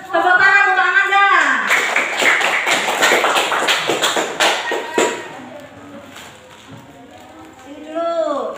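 Students in a classroom clap for a classmate called up for a prize, a short burst of close, brisk hand claps, followed by a teacher speaking.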